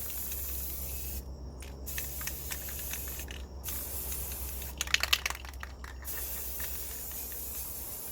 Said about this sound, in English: You're just going to spray really liberally